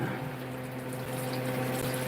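Water poured from a container onto a potted plant, a soft steady trickle and gurgle close by with a faint hum beneath, continuous for a couple of seconds and no talking.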